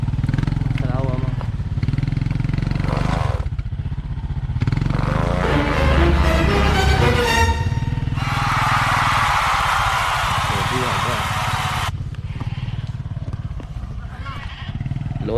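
A motorcycle labours along a muddy road on Siquijor island, its engine droning loudly and continuously with revving surges, while people talk over the noise.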